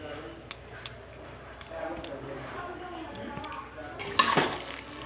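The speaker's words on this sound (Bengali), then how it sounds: "গরম মশলা দিয়ে ভালো করে নাড়িয়ে দেবো।" Spatula scrapes and light metallic clinks against a pan while cabbage curry with garam masala is stirred, with a louder scraping burst near the end over a quiet kitchen background.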